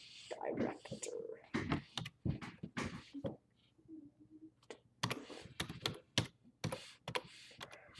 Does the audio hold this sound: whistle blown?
no